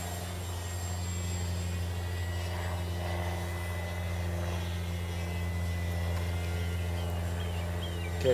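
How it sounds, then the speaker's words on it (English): A real airplane passes nearby close to a small airport, its steady droning engine hum holding at a constant level throughout under the whine of a nearby RC model plane. "Okay, we got a real plane in the vicinity here."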